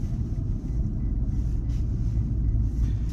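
Jaguar XF with a 3-litre 240 bhp engine cruising on a dual carriageway, a steady low engine and road rumble heard from inside the cabin, continuous and even throughout with no talking.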